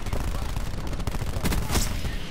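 Rapid bursts of gunfire from a gun in the shooter game Black Ops 4, a dense stream of shots filling the clip with a louder flurry near the end, set against busy game noise.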